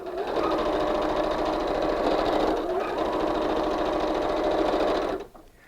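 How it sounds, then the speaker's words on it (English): A home sewing machine stitches fabric in one continuous, fast, rattling run for about five seconds, close and fairly loud, then stops abruptly. "I'll take this over to the sewing machine."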